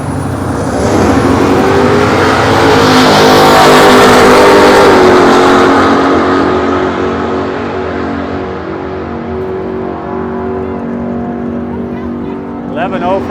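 A diesel truck drag racing at the strip gives off a loud, close engine roar that swells to a peak and then eases off as it pulls away.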